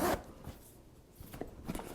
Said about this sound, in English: The zipper is nice and smooth.